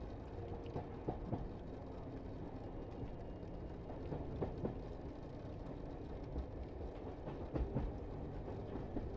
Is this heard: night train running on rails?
yes